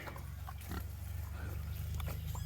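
Pigs grunting in a steady, close run of low snorts and oinks over a rumbling background, with a few sharper squeals and noises on top; the animals are filthy from rolling in mud.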